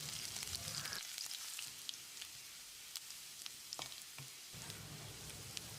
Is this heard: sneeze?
no